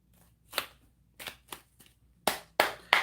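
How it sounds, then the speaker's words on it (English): A deck of playing cards is shuffled in a few separate riffle bursts, each a short papery flutter. The later ones are louder and sharper, with brief silences between them and no speech. "Give you a couple shuffles."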